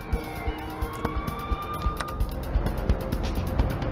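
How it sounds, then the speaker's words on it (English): Police sirens wail from a distance, faint rising tones sitting behind a busy, uneven stretch of close knocks and thumps that grows slightly louder toward the end. "Only the sound of approaching sirens prevented the young woman from being seriously hurt."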